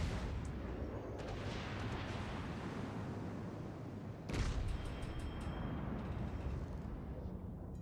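Naval gunfire in a World of Warships-style battleship game: a continuous heavy rumble of distant shots and shell impacts, with a louder, closer blast about midway followed by sustained booming.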